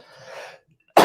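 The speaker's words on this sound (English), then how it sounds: "I'm going to cough for a second" A single sharp cough bursts out close and loud after a brief hush, following a low breathy sound.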